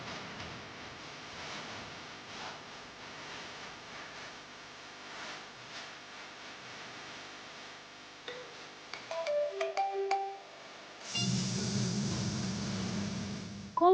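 A mobile phone ringtone rings in a quiet room, a short melodic tone sequence followed by a louder, sustained burst of ringing near the end, with no talking.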